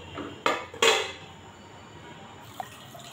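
Utensils and a tava are washed in a home kitchen sink, with two sharp clattering knocks of metal pots early on, then quiet water and a faint clink near the end.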